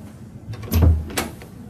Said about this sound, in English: She opened the door and went in.